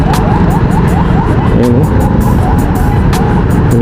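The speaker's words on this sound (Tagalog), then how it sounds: "Grabing traffic mga kabady." Rush-hour traffic heading toward Quezon Avenue churns loudly, with dense engine rumble, passing cars and repeated horn-like tones over a constant roar, while a voice briefly speaks nearby.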